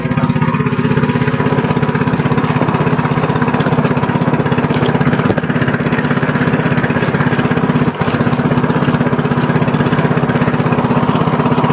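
A fishing boat's engine drones steadily at close range at sea, loud and unbroken, with a constant mechanical hum and no voices.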